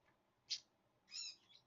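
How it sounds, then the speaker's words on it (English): Bird chirping indoors beside someone sewing half-square quilt triangles, two short high calls about half a second apart, fairly faint against a quiet room. "You crazy bird."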